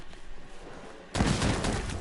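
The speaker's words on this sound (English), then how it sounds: "That's one explosion. That's two explosions." Quiet, murky rumble, then a loud video game mine explosion bursts in halfway through and keeps roaring and crackling to the end.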